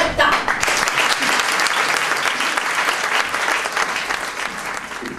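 An audience applauds a singer-songwriter at a small concert venue, loud sustained clapping close by that slowly eases off toward the end.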